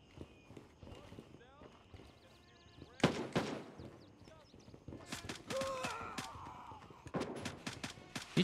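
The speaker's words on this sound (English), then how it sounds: "Gunshots," Gunfire rings out in the military shooter game Gray Zone Warfare, several sharp shots cracking out in bursts amid footsteps and movement, with players talking over the action.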